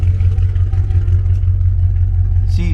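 A tuned BMW X6M V8 idles loud and close at the exhaust with a deep, steady, even rumble and a brief higher tone near the end.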